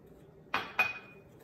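Two quick clinks ring out as a utensil strikes a bowl while baking powder and salt are mixed together, each bright tap trailing a short metallic ring in a quiet room.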